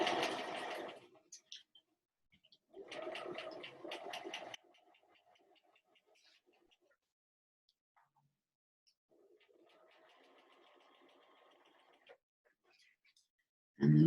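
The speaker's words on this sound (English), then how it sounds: "I'm just going to very, very quickly sew the second square on there." A sewing machine stitching quilt block squares gives short bursts of fast, whirring, rattling stitching separated by quiet pauses, with softer handling noises between runs.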